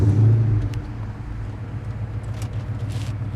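A 2004 Ford Mustang SVT Cobra in Mystichrome rumbles low and loud at close range, with a strong burst at the start that settles into a steady idle.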